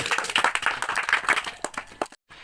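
Children clap in a classroom quiz, a quick burst of many overlapping hand claps, fairly loud and close, lasting about two seconds before cutting off abruptly, with a brief restart at the end.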